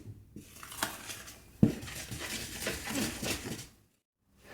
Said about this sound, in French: On finit de mélanger avec la cuillère en bois.